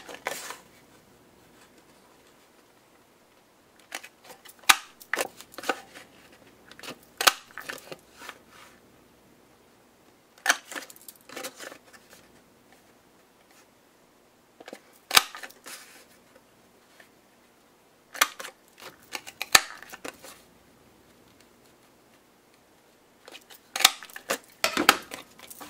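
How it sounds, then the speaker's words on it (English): A scallop border paper punch works through cardstock in short bursts of crisp clicks and crunches, separated by quiet pauses, close and fairly faint with no talking. "So I'm going to use the scallop border punch."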